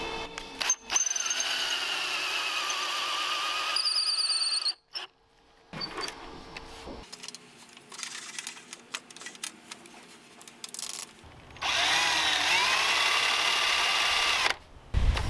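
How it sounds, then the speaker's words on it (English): A power drill spinning threaded rod runs in bursts, whirring loudly, stopping, then starting again, with clicks and quieter gaps between runs. "So I chucked up some threaded rod in the drill here."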